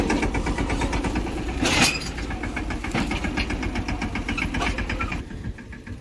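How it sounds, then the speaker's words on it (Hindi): A tractor engine runs steadily at a low, rumbling idle in a village setting, loud and continuous with a brief louder burst near the start, no talk. "ये आ गया ट्रैक्टर"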